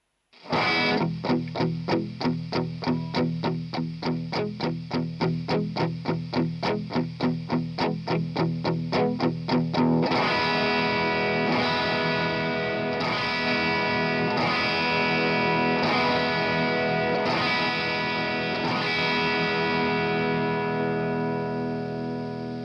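A distorted electric guitar plays through an Alnico Cream speaker driven by an MV50 amp, first fast chugging palm-muted riffs, then sustained ringing chords, loud and continuous.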